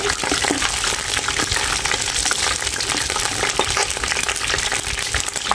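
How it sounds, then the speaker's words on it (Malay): Lemongrass stalks being sautéed in oil for a nasi lemak sambal give off a loud, crackling sizzle with stirring scrapes, close and continuous, with no voices. "Masuk tumis. Terus kita masukkan dia batang serai ni."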